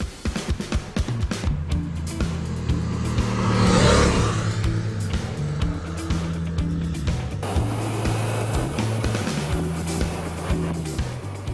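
A Yamaha Tracer 700 motorcycle engine under way, a steady close droning hum that swells and rises in pitch around the middle, then settles back to a constant ride.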